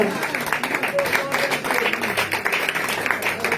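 A church congregation claps and cheers steadily for several seconds at a French-language sermon, dense rhythmic applause mixed with voices throughout.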